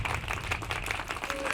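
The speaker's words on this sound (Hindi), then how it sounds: "आज तो आप हमारी जीत के लिए ताली बजा रहे हैं अर्नब जी," An audience claps steadily in a brief, fairly faint burst, with scattered hand claps blending into a continuous patter.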